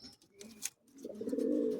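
A caged Madrasi pigeon coos, a low, throaty call that swells and holds near the end after a few soft bird chirps, close by and alone with no talking.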